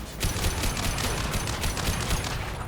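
Dense, continuous gunfire and explosive rattle from a Mass Effect 2 campaign finale battle, loud and unbroken for the whole stretch, with no voices over it.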